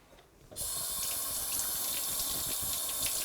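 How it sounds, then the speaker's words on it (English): Cold tap water gushes steadily into a sink while sorrel is rinsed of dirt, starting abruptly after a brief quiet moment and continuing as a constant, fairly loud rush. "I'm going to run cold water down here and try to rinse all this dirt off"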